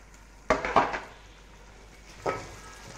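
Peas, green onion, onion and carrots cooking in desi ghee in a pan, heard as a few sharp clanks and scrapes of a utensil against the pan over a faint, steady sizzle.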